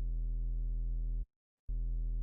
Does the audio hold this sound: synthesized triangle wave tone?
yes